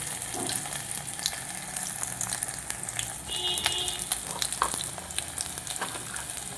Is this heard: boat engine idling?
no